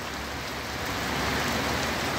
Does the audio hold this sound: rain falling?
yes